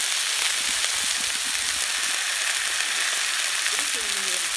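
Albacore tuna fillets on a plancha grill give a dense, loud, continuous sizzle close by, with a faint voice-like murmur near the end.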